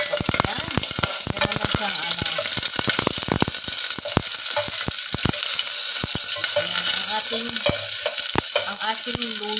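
Sautéing in melted pork fat for a sotanghon soup, with a steady loud sizzle running throughout and repeated sharp scraping clicks from a utensil stirring the pan.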